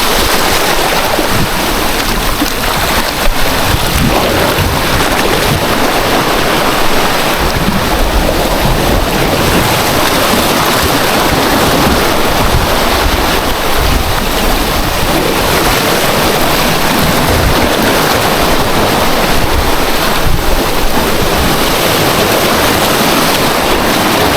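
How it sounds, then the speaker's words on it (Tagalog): Loud, continuous rush of surging ocean waves mixed with heavy wind buffeting the microphone, a constant roar with no talking. "Lakas yung alon mga master."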